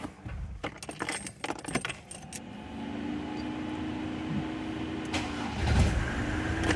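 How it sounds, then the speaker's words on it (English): Keys jingle and clink, then a Mercedes-Benz W124's engine cranks and starts, settling into a steady low idle that revs briefly near the end, with the coolant warning light on. "I'm gonna sit in the car and turn it on."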